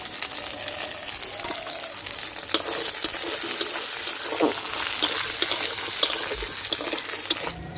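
Spices, onion, garlic, ginger and melon seeds fry with grated coconut in a pan for a Katla fish curry, a steady close sizzle with stirring scrapes and crackles throughout.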